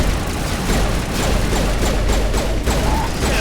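Dense, rapid gunfire and impacts from a Mass Effect firefight fill the scene continuously, loud and close, with repeated crackling bursts and no pause.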